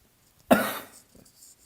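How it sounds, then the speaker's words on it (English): A single sharp cough bursts out close by, loud and brief, then trails off into quiet room noise. "now I've got like that tickle that's going to make me cough."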